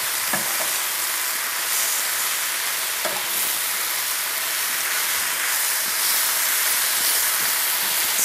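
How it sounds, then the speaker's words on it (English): Fresh spinach with softened mushrooms stirred in a hot frying pan, a loud continuous sizzle and steamy hiss with occasional scraping knocks of the utensil. "Stir the spinach frequently so that it gets wilted on all sides"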